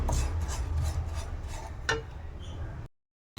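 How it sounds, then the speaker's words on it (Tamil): Roasted ragi and oats ground into powder in a mixer grinder jar, a loud rough whirring rasp for under three seconds that then cuts off abruptly. "இப்போ வந்து கொஞ்சம் லைட்டாக வந்து நான் இது பவுட்ரு மாதிரி கொஞ்சம் கிரைண்ட் பண்ணிக்கிறேன்"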